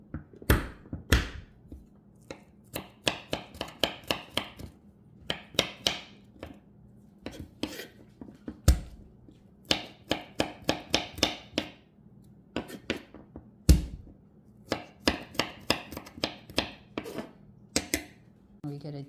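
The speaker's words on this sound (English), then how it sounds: "we can start chopping our ginger and garlic and our chilies" Rapid bursts of knife chopping ginger, garlic and chilies on a cutting board, sharp repeated taps in quick runs separated by short pauses.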